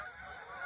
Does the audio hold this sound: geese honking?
yes